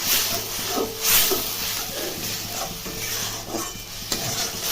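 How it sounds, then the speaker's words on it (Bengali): Spice paste masala stir-fries in oil for ghugni, a steady close sizzling hiss with soft scraping strokes of a spatula against the pan at an uneven rhythm, no one speaking. "এভাবে মশলাটা যতক্ষণ না পর্যন্ত তেল ছাড়ছে ততক্ষণ পর্যন্ত ভালোভাবে কষিয়ে নিতে হবে"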